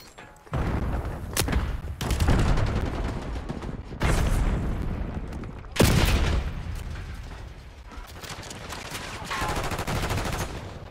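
A frag grenade detonates in Black Ops 6 multiplayer, a sharp booming blast standing out amid continuous loud gunfire and chaotic combat noise, with another heavy burst following a few seconds later.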